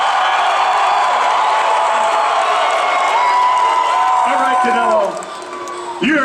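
Large crowd cheering and whooping at a boxing weigh-in for Canelo Alvarez versus Erislandy Lara, a loud continuous roar with shouts and some clapping, easing briefly near the end before swelling again.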